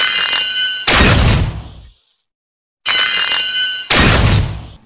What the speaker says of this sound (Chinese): 这是1技能专注射击的特效及音效。